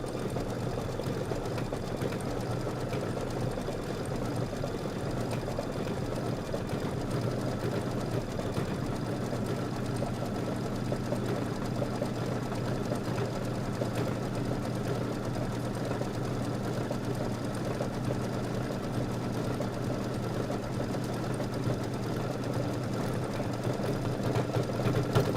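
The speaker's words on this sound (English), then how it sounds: "So that was 9 minutes of stitching." A sewing machine stitches a Kimberbell quilt section, a steady fast mechanical hum and rattle that keeps going unbroken and close for the whole stretch, no talking over it.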